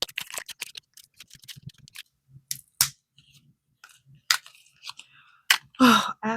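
Sharp, irregular snips and crisp clicks of scissors cutting through material, close by, with short pauses between cuts.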